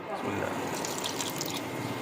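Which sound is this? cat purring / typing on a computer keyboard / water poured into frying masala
water poured into frying masala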